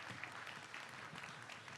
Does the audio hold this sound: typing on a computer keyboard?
no